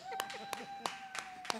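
Sparse, slow handclaps at a funeral service, about five distinct claps spaced roughly a third of a second apart, fairly quiet and moderately close, with a faint steady tone running underneath.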